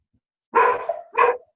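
A dog barks twice at close range, two loud separate barks about half a second apart, with no talk over them.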